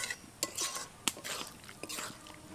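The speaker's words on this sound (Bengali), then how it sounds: "কর্নফ্লাওয়ারগুলো জল দেওয়ার পর ভালো করে মিশিয়ে নিয়েছি" A spoon stirs cornflour water into a cauliflower gravy in a pan, giving soft, close scrapes and clinks against the metal in an irregular rhythm over a faint background hiss.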